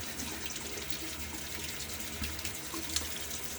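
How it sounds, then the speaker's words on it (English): Tap water running steadily into a sink while shaving gear, a Wolfman razor and brush among it, is rinsed, a constant close hissing splash with occasional small clinks and changes in the flow. "I'm going to clean up, rinse some of these things out"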